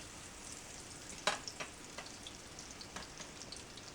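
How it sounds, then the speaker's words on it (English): Kakiage tempura fries in hot oil with a soft, steady sizzle and scattered faint pops and crackles, close up and quiet. "You want to fry it until it's golden brown."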